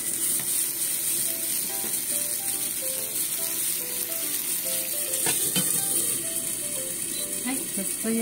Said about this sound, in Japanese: あと3個焼いていきたいと思います。